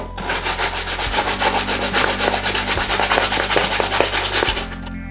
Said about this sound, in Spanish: con una lija de 100 lo que voy a hacer ahora es empezar a lijarlo.